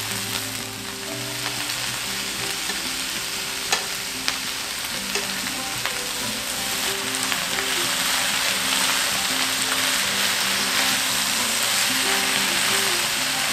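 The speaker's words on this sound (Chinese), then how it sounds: "可以放入大白菜。 先把它炒到软化。" Napa cabbage stir-fried in a wok for a vegetarian braise: a loud, steady sizzle and crackle throughout, with occasional clinks from stirring.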